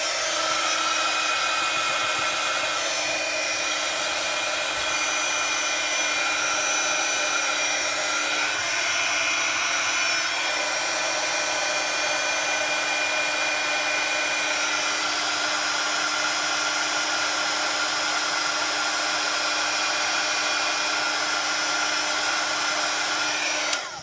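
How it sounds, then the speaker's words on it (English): Heat gun blowing continuously at close range, a steady loud hiss with a constant whine throughout, running alone without any talk for the whole stretch. "So I'll just grab my heat gun."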